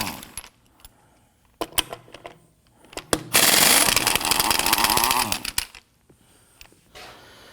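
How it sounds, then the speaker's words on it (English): A 21mm socket works the rear wheel lug nuts of a 2016-2023 Toyota Tacoma, with scattered metallic clicks and clinks around a loud two-second whirring burst of loosening, then more small clanks. "we're going to use a 21mm socket to loosen and remove our lug nuts"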